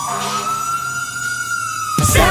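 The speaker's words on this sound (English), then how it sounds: "Sound the sirens, Nino, Nino." Fire truck siren in a children's song, a steady high wail that holds one pitch and then shifts near the end as the music comes in, loud and up front.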